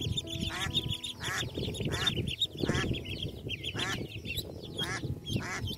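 Repeated quacking from ducks, about seven or eight loud quacks in a steady rhythm over a low background murmur.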